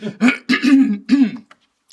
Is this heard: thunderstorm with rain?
no